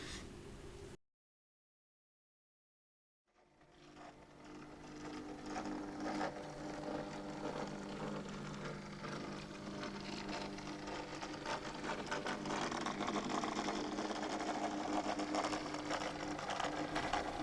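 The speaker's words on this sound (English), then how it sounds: "the Class 60 light engine departing Parstiche for either Plymouth" A Class 60 diesel model locomotive in OO gauge running light engine on a 1990s Cornish mainline layout, a steady mechanical motor whir with gear rattle that starts after a brief silence and holds loud and even, building slightly toward the end.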